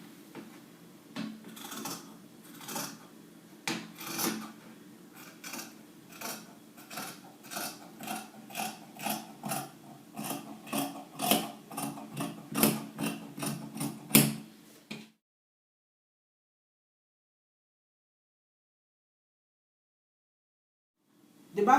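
Scissors cutting through fabric along the back piece of a reversible kimono jacket, a quick run of quiet crisp snips in steady rhythm for about fifteen seconds, then silence.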